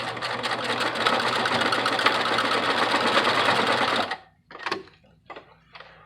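A sewing machine stitches back and forth across elastic on a denim newsboy hat, running loud and steady for about four seconds, then stopping and giving a few short bursts of stitching.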